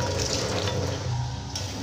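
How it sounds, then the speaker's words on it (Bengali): Water poured into a pan of egg and new potato curry gives a steady, close rushing splash that runs the whole time with no one talking. "এবার পরিমাণ মতন আমি জল দিয়ে"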